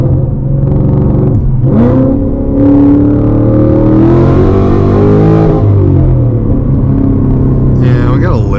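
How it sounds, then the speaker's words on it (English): A supercharged 2025 Ford Mustang GT pulls hard in second gear, heard from inside the car: a loud, deep engine roar rises in pitch under full throttle, then eases off, with supercharger whine over the rumble. "let's do a quick second gear rip."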